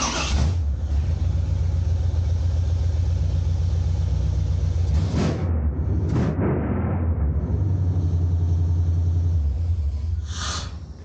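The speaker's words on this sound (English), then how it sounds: "So if you didn't notice, we now have another running car." A car engine idling and running after a DIY engine swap, a loud continuous low rumble with a few brief surges and bursts over the steady drone, no voices.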